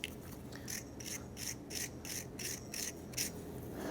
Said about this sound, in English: So let's go ahead and use your wire brush.